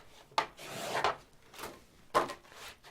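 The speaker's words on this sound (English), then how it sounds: "burnish that crease" A bone folder rubbing along a scored paper crease on a gatefold pocket invitation, heard as several short dry scraping strokes, close and fairly quiet.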